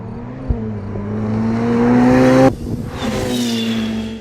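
A Ferrari 488 Pista engine revs hard, its pitch climbing steadily through a gear before a sharp upshift cut, then pulling again at lower pitch, loud and close with no talk.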